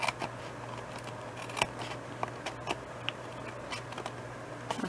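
Scissors cutting card while making a Halloween easel card, with soft, fairly quiet snipping and ticking clicks repeating irregularly over a steady background hum.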